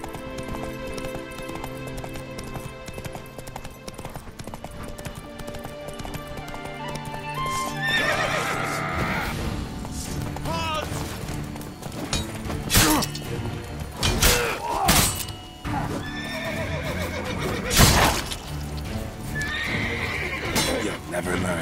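Roach, a horse in The Witcher 3, gallops with fast repeated hoofbeats and gives several loud whinnies, with thuds and game effects mixed in along with a voice.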